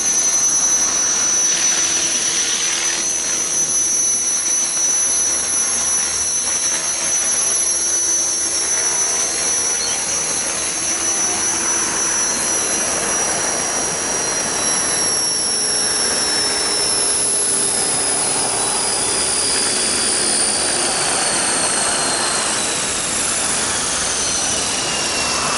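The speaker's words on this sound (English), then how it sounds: "The Walkera V450 D03. Not a bad heli." Walkera V450D03 RC helicopter flying close, a steady loud whining rotor and motor drone with a high pitched tone that holds throughout and slowly slides lower near the end, with no talk.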